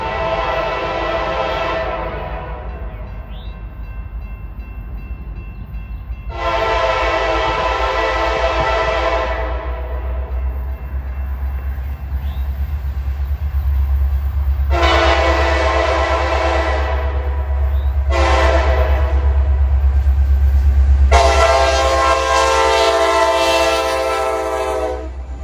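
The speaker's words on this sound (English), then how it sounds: "CSX SD70 Mac 4530 was at the lead as they pass South End Fairburn." A CSX freight train led by SD70 Mac locomotive 4530 rumbles past South End Fairburn, sounding four long, loud horn blasts over a steady, heavy rolling drone.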